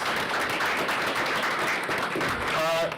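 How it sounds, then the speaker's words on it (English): Applause for middle school volleyball champions, the EPIC Owls, at a school board meeting: steady dense clapping from an indoor audience, with a voice briefly cutting in near the end. "So let's give the EPIC Owls a big round of applause"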